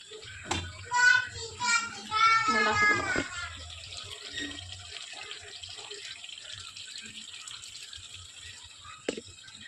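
A voice speaks at the start, then a small amount of water runs into a pot of mutton curry as a faint, steady pour that continues for several seconds.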